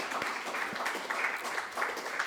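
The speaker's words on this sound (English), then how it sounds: "Ladies and gentlemen, a round of applause." Members at a New York poetry society meeting applaud, a moderate, even spread of clapping from a modest group with a few sharper individual claps standing out.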